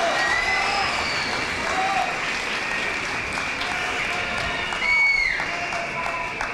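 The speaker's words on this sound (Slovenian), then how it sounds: "Dajmo še en velik aplavz za Uršo in za vse nas." A crowd gives sustained applause at an outdoor pro-life march in Koper, a steady dense patter of clapping with some scattered voices and whistles mixed in.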